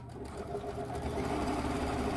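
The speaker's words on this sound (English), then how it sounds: "line them up, and sew them shut" A sewing machine stitching fabric points shut, a steady fast mechanical whirr with rhythmic needle clatter, fairly quiet and alone.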